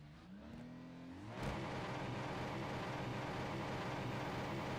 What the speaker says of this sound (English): because it's pushing the pedal in, it's revving my engine